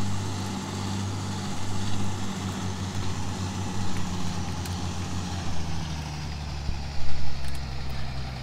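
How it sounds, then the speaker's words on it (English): Tractor engine of a 4955 in Farming Simulator 2013, a loud, steady low drone with a rough, strained tone that wavers slightly in pitch and swells in a few pulses, heard alone. "it sounds like the engine on that 4955 is, you know, about ready to puke"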